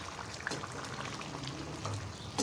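Chicken and potatoes boiling in water in a lidded pot over medium flame, a faint, steady bubbling simmer close by with a slight clatter near the end.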